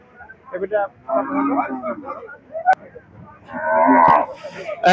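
Holstein Friesian dairy cows and heifers at a cattle market, lowing in several loud, drawn-out moos close by, one after another, with a sharp knock and background voices between calls.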